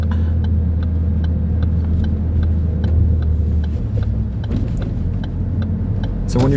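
A manual-transmission car engine idles with a low, steady rumble from inside the cabin, and a faint rhythmic ticking runs over it; the note shifts slightly near the end as the clutch is let out and gas applied.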